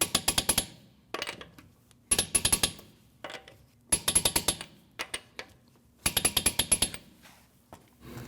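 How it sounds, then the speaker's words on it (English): A torque wrench tightens the lug nuts on a 2012-2016 Honda CR-V, giving several close, loud bursts of rapid metallic clicking separated by short quiet gaps. "you want to torque these lug nuts at 80 foot-pounds"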